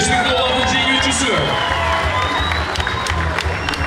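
A stadium crowd at a Jalal-Abad football match between Muras United and Bars cheers and applauds steadily for a $5,000 prize winner, while an announcer talks over the continuous roar.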